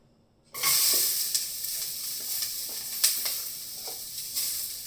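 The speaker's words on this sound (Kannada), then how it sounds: "ಇವಾಗ ಕ್ಯಾಪ್ಸಿಕಮ್ನ ಸ್ವಲ್ಪ ಫ್ರೈ ಮಾಡಿ ಇಟ್ಕೊಂಡ್ಬಿಡ್ತೀವಿ" Capsicum frying in a hot pan gives a steady, loud sizzle that starts abruptly and keeps going, with occasional stirring scrapes and taps against the pan. No voices are heard.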